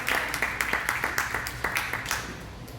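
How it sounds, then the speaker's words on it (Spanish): Clapping from a church congregation at an Easter Sunday service, a few sparse, fairly close hand claps in an irregular rhythm that taper off within seconds. "De un aplauso fuerte al Señor"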